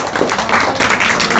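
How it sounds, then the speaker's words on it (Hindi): A crowd of people applauds a child at a family gathering in a village home, a short, dense burst of close, loud hand clapping. "एक बार बच्चे के लिए जोरदार ताली बजाइए।"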